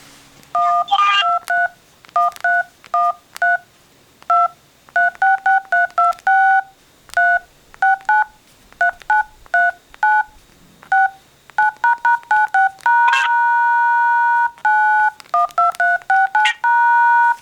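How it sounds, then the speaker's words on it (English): Phone keypad tones beep in quick bursts of short presses, then a longer steady tone near the end, with no talking. "That was just me pushing numbers on my phone."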